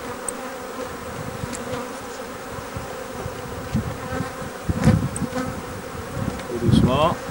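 A dense, steady buzzing of many honeybees at an opened beehive fills the whole stretch, swelling louder in a couple of places, with no talking.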